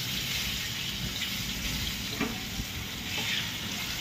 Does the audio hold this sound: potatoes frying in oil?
yes